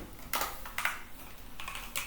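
Typing on a computer keyboard: a few quiet clusters of light key clicks in short bursts, close and soft, with brief pauses between them.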